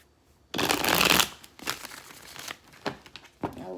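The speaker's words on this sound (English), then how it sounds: "So, let's get a couple more shuffles." A deck of tarot cards is shuffled up close: one loud, sustained riffle, then several softer, shorter shuffling bursts and card flicks.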